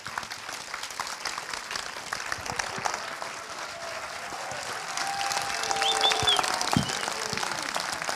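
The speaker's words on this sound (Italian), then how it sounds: "Vi chiedo di accogliere con un grande applauso i nostri ospiti di stasera, Antonio Albanese e Giuseppe Battiston." A studio audience at an evening show applauds to welcome guests Antonio Albanese and Giuseppe Battiston, with steady, dense clapping that swells louder toward the end.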